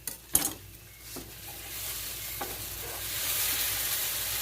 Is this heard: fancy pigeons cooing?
no